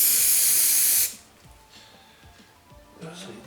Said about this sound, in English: we'll spray some white paint